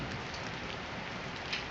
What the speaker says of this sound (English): because it is raining right now